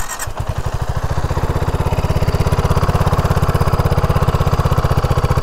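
A BSA Gold Star 650 motorcycle engine starts and settles into a loud, steady, rapid thumping idle, close by and alone.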